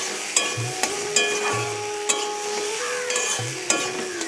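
Spices with raw cumin frying in a pan, a steady sizzle with repeated scraping strokes of a spatula and sharp utensil clicks against the pan, close and clear with no talking.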